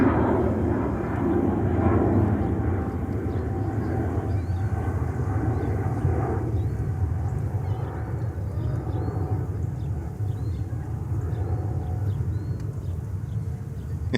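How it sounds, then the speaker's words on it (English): Delta flight 979, arriving at JFK from Los Angeles, sends a steady, broad jet rumble through the whole stretch, loud and continuous with no talk over it. "Next inbound, Delta Flight 979 from Los Angeles,"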